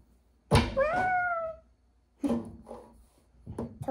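A cat meows clearly and close by, one long rising-falling meow followed by two shorter calls after a pause.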